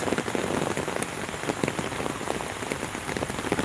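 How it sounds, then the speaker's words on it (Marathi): Sudden rain falls steadily in the Konkan countryside, a dense continuous patter of drops on surfaces, close and even in loudness throughout, with no voices. "आज अचानक पाऊस पडलेला"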